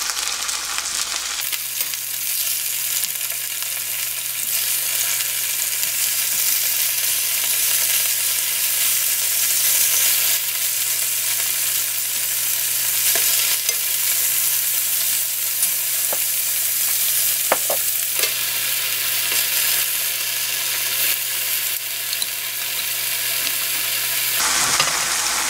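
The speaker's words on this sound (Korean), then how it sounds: "두부가 약간 굽힐 정도로만 둘러줍니다." Tofu fries in a little oil in a frying pan for spicy braised tofu, a steady, close, dense sizzle with a low hum that runs unbroken for the whole stretch, with no voices.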